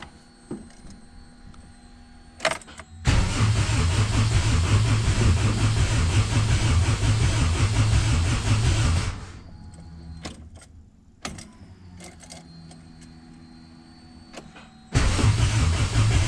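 AWD hatchback with a distributorless setup running on the factory ECU, its starter cranking loudly and steadily for about six seconds, then several short clicks, and a second cranking burst near the end; no talk.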